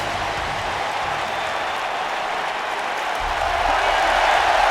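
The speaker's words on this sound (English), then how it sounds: "the crowd in Jersey showing a lot of mad love to Jeff Hardy and his in-ring return to Raw" Arena crowd in the WWE 2K20 game cheering and applauding during a Raw show in New Jersey, a steady dense wash of clapping and cheers that swells slightly louder near the end, with no talk over it.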